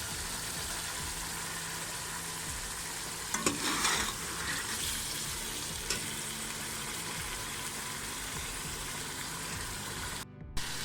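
Chicken gizzard and liver masala fries steadily in a pan with a constant close sizzle and a few stirring scrapes. No one speaks.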